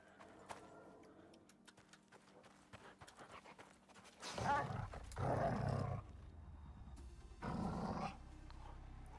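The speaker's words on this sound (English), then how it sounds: "Oh, look, it is a wolf." A wolf in the survival video game Icarus growls in several rough, loud bursts that come after a stretch of quieter ambient clicks and footsteps, with no talking.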